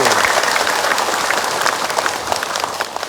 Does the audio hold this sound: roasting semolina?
no